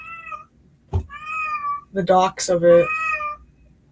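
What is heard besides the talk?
pet cat meowing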